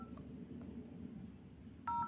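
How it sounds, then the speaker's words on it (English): Keypad tones from a phone's emergency call dialer, a few faint beeps early on, then a clearer touch-tone beep at the end, over low background hiss. "So you still go to your emergency call and dial this code"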